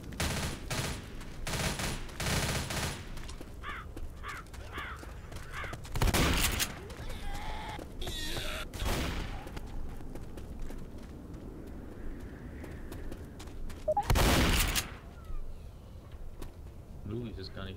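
Rapid gunfire bursts from the Left 4 Dead co-op shooter, loud repeated volleys with game noise between them, while players talk over the action.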